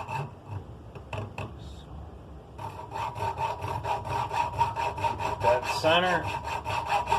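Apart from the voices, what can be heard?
old hand saw sawing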